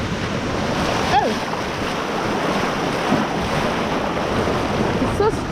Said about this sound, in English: The tide is coming in so strong